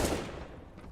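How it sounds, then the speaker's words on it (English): A burst of pistol fire from a P250 in a CS:GO match, one sharp loud report with a quick follow-up, echoing and decaying over about a second. "Pollux almost getting tapped down there by a pistol"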